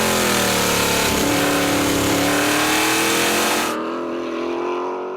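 An on-board historic race car at Phillip Island, one of several making 500 to 600 horsepower, revs loud and close with a rising, rasping engine note before the sound cuts off abruptly near the end.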